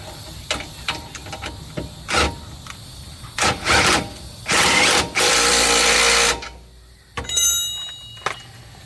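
A ratchet tightens bolts on the rear disc brake of a VW Type-3, clicking in short bursts and in longer runs of rapid clicks, with brief gaps between them. The work is close, and no one talks.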